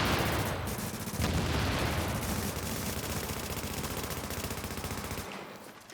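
Heavy video game gunfire while shooting enemies: continuous rapid automatic fire blasts loud and close for several seconds, then cuts off abruptly near the end, with no talk over it.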